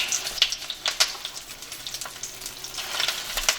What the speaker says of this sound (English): Fry this just like this.